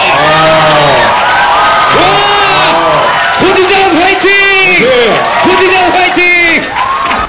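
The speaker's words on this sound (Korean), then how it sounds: "격려의 박수 주세요." A crowd at a Korean film supporters' launch event for The Front Line roars and cheers loudly, with repeated shouted whoops and excited voices layered over continuous crowd noise.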